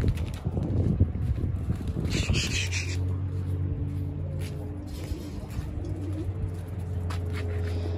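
Pet pigeons coo in low, drawn-out tones nearby, repeating steadily over a noisy outdoor background after an early stretch of rustling and a brief higher chirp.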